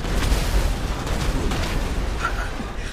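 Explosion in the GTA video game, a sustained loud rumbling blast and roar with crackling debris that fills the whole moment, no speech.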